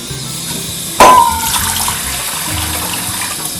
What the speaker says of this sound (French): Fait qu'on met un petit peu d'eau.